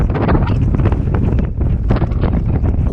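Loud, buffeting wind roars across the microphone of a cyclist climbing into a headwind, gusting and thumping in uneven bursts throughout with no speech.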